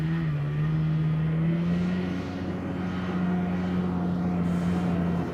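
Two-cylinder two-stroke mini tank engine running in high gear while the tracked machine drives off-road, a steady close droning buzz that holds an even pitch throughout with no talk.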